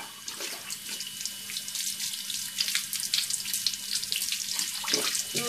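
A tap runs water into a sink while paint brushes are washed, a steady close splashing with irregular bursts as the brushes move under the stream, and no one speaks.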